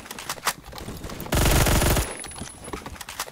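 A gun in the shooter game Phantom Forces fires a loud, fast automatic burst of about two-thirds of a second, standing out sharply between quieter game sounds and clicks.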